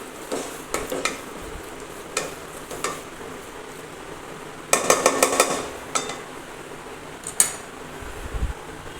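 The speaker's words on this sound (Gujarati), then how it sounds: "ખાંડ ઓગળી જાય અને લોટ હજી સરસ રીતે પાકી જાય ત્યાં સુધી આપણે તેને આવી રીતે ધીમા તાપે જ હલાવતા રહીશું" Flour being stirred as it roasts in a pan on low heat, with a faint sizzle and intermittent scraping and clinking of a utensil against the pan, in bursts separated by quieter stretches; no talking.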